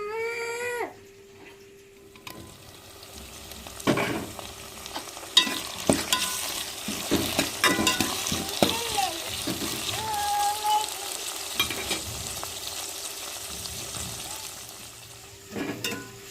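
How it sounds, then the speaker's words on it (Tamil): Onion, garlic, green chili and tomato fry in a pan for an onion kuzhambu, with a soft sizzle under frequent scraping and clattering of a spoon; brief tonal sounds and faint voices appear in the background. "வெங்காயம் வெள்ளைப்பூடு பச்சை மிளகாய் தக்காளிலாம் வதங்கிருச்சு"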